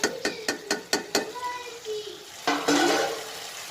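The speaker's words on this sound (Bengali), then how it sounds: "ভাজিটা নেড়ে নেব।" A vegetable fry with tomato and green chili is stirred in a pan: a quick run of sharp, evenly spaced clinks from the spoon hitting the pan, then a longer scraping stir, all close up.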